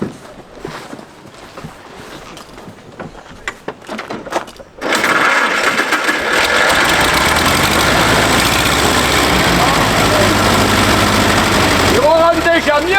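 Old engine just repaired, started up and running: a loud, steady mechanical chugging drone kicks in partway through and continues to the end, after quieter handling noises and people talking at the start.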